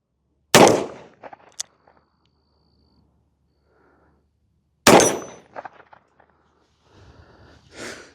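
Two loud, sharp gunshots from a Chiappa Rhino revolver fired two-handed, spaced about four seconds apart, each with a short echoing tail and small clanks afterward, then a faint rustle at the end.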